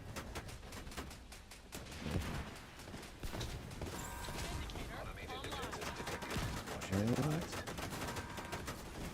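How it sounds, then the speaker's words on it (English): Bursts of rapid gunfire in a chaotic boss battle against the Iron Horse, with green lasers followed by volleys of rounds, layered with electronic zaps and mechanical effects, loud and continuous throughout. "in the form of green lasers followed by a volley of rounds."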